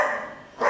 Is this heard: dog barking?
yes